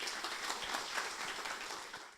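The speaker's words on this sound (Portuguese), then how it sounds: "peço uma salva de palmas para ele" Steady, soft applause from a gathered audience at an academic working-group session, honouring a speaker, a dense patter of hands heard at a distance, fading slightly at the end.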